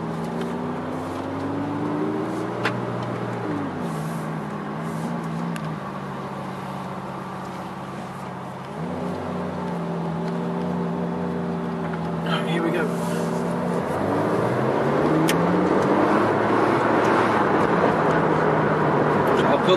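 Heard from inside the cabin with the window up, a Ferrari 458 Speciale's engine rises and falls through gears while driving, its droning note swelling louder and harsher toward the end.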